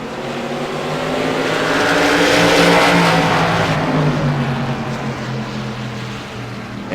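Race cars in a CRA late model event at Langley Speedway roar out of turn four onto the front stretch, a dense, loud pack of engines that swells toward the middle and slowly fades as they pass.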